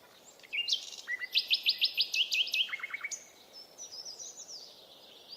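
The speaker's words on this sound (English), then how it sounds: "Forests, of course. Birds." Wild birds chirp and sing outdoors in nature, a run of quick repeated trilling notes and whistled phrases, fairly close and clear, followed by softer, more distant calls with no talking.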